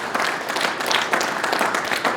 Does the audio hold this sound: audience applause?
yes